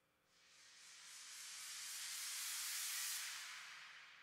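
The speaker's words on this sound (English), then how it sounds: "How about this swish? That's a riser at the end." A soft noisy riser swish swells gradually over a few seconds, peaking and then fading slightly, alone with no other sounds.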